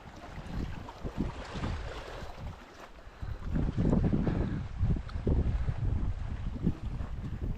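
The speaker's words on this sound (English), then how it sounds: "always windy at this lake." Steady wind blows across open water at Lake John, a low rushing roar with rising and falling gusts and faint lapping underneath.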